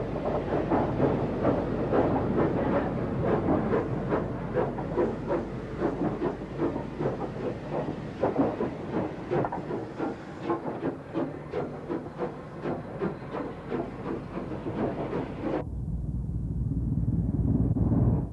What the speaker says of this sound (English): Another merchant navy speeding through Basingstoke.